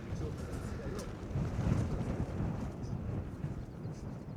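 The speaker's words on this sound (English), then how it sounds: "That's 10 mile an hour gusts." Steady low rumbling wind buffeting a microphone, swelling into stronger gusts midway, continuous throughout with no clear voices.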